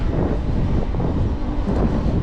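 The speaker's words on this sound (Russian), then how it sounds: "дует ветер встречный" A headwind buffets the microphone of a cyclist riding a 36 km route from Adler to Sirius, producing a constant low rumbling roar with no gaps.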